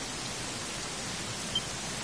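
Steady rainfall in the Dragon Quest XI video game, an even, hissing wash of falling rain that stays constant and fairly soft, with no voices.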